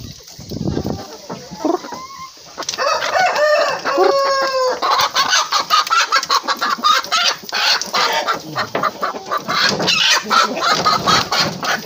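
A chicken clucks and squawks as it is picked up by hand, sharp close calls bursting out in quick, uneven runs with a few loud cackling bursts.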